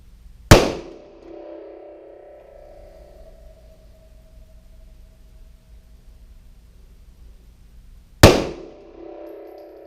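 Two sharp, loud shots from a Smith and Wesson M&P Compact 3.6 pistol during slow target firing, spaced about eight seconds apart. Each crack is close and has a short ringing tail, with quiet range background between them and no talk.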